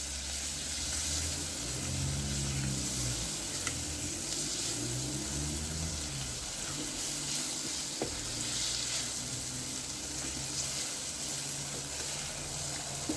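Curry powder being stirred into tomato and onion soup frying in a pan: a steady sizzle with soft scraping and stirring swirls throughout, close and continuous, no voices.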